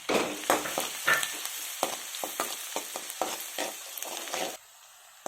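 Finely chopped onions dropped into hot oil with popping mustard seeds for tawa pulao, crackling and sizzling loudly with bursts of stirring, then dropping abruptly to a quiet hiss near the end.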